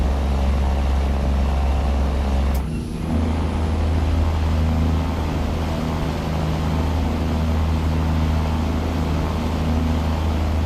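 Simulated truck engine in a trucking video game, a steady low diesel drone holding evenly throughout, with a brief sharp click near the start and no talking.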